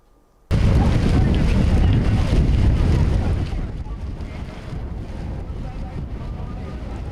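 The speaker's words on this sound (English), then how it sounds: "Wind speeds reached over 50 miles an hour at times in the first week in March" Strong gusting wind over 50 mph buffets the microphone in a loud, roaring rush that starts abruptly, then eases to a lower but steady blustery roar, with no voices.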